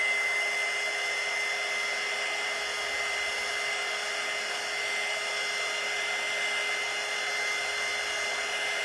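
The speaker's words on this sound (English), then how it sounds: "when you're drying things with a little dryer like this" A small handheld heat dryer blows hot air onto a crushed-can craft piece, a steady whirring hiss with a thin whine, running continuously up close without talk.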